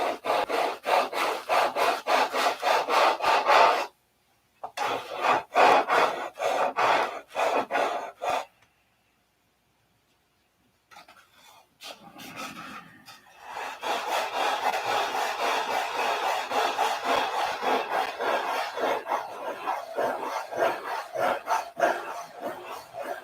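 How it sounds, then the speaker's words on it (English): Wooden wingtip of a model aircraft sanded by hand: rhythmic scratchy back-and-forth strokes close by, pausing briefly twice before resuming as a steadier continuous rasp, no talking. "I think I'm going to sand this and then I'm going to call it a night."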